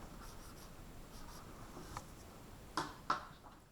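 A marker or chalk squeaks and scratches across a board in a quiet room during a lecture, light strokes followed by two sharper taps near the end.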